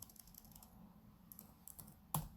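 Keys tapped on a computer keyboard during design work at a desk, a faint run of light clicks with one sharper keystroke near the end, heard alone without talk.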